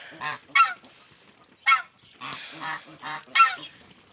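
Several loud, nasal honks from a gander close by, coming in irregular bursts with short pauses between them.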